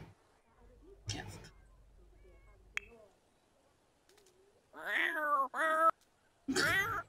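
A cat in The Sims 4 game gives several loud, drawn-out meows near the end, after quieter game sounds and a few soft clicks earlier.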